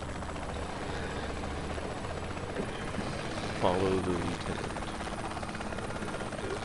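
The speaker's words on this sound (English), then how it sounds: "Oh god, I'm not good at controlling this helicopter." A helicopter in Saints Row 3 gives off a steady rotor thrum and engine whine throughout, heard up close beneath a short spoken line in the middle.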